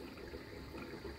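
Samsung washing machine filling with water, a steady broadband rush and gurgle of inflowing water, continuous and close, with no voices.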